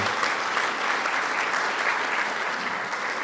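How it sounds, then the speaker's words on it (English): Steady applause from an audience at a homecoming ceremony, filling the whole stretch at an even, moderately loud level with no voices over it. "Another round of applause for Rachel."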